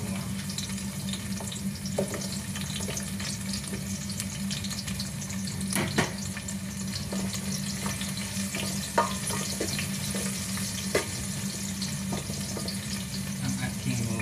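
Garlic frying in a pan for squid adobo, a soft steady sizzle with faint scattered crackles and occasional small clinks, fairly quiet throughout.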